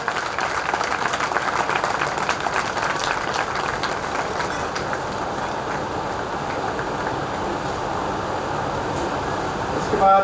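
An audience applauds a guest being welcomed on stage at a Buddhist initiation ceremony, a steady wash of clapping that carries on for several seconds without a clear ending.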